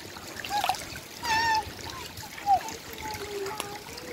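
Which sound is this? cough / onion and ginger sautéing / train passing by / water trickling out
water trickling out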